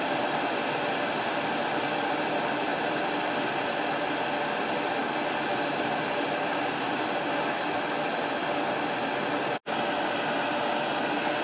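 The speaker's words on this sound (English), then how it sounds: "I'll pump it out of this clean oil drum back up into this one" A pump transferring waste motor oil from one drum into another runs with a steady, loud, even whir, broken once by a brief cutout near the end.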